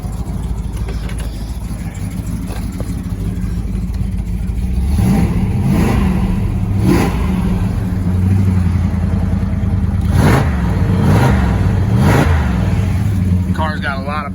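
A 1966 Dodge Charger with a factory 426 Hemi V8 rumbles steadily at idle, then gets blipped several times in sharp, loud revs, with voices talking nearby.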